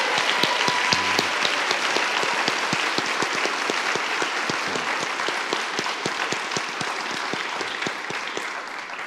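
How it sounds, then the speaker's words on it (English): Enthusiastic applause from a conference audience at a talk on MDMA-assisted therapy for veterans, a dense, steady stream of crisp claps at strong, even volume, with a faint voice briefly audible underneath early on. "applause"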